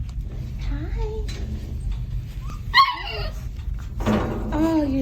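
Puppies in a kennel give high yips, short barks and thin whimpers in uneven bursts, close by and mixed with a person talking to them.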